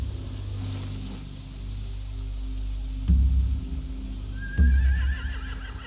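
Horses in The Walking Dead video game snort and shift against a low ambient rumble, then one lets out a clear, wavering whinny near the end.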